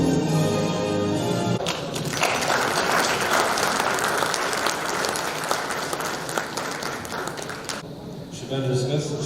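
Sustained audience applause for athlete Afshan Ashiq at a STIHL India event, a dense loud wash of clapping from a crowd that swells after a short pause and holds steady nearly throughout.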